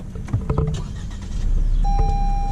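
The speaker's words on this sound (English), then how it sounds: "the engine starts up pretty nice and loud" A 2019 Lexus NX300 F-Sport engine cranks and starts inside the cabin, settling into a loud, steady idle with a thin high tone from the dashboard.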